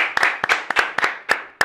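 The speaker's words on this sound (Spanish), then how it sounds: "vamos a presentarlo con un fuerte aplauso" Short bursts of hand clapping greet a guest at a Spanish-language interview show on urban music, a few sharp claps spaced irregularly and close up rather than a sustained ovation.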